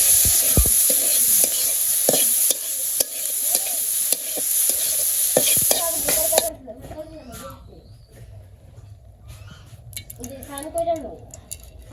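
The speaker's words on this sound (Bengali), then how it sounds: "সয়াবিন প্রথমে ভেজে নিব" Soybean chunks seasoned with salt and turmeric fry in hot oil in a wok, a loud steady sizzle with stirring scrapes that drops off partway through, leaving quieter clinks and a voice talking.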